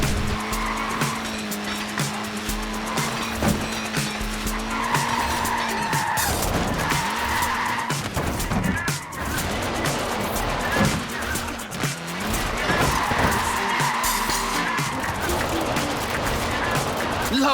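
A classic Mini racing car in Forza Horizon 4 slides with sustained loud tire squeal and skidding over its revving engine, the screech rising and falling in long sweeps, with a voice talking intermittently over it.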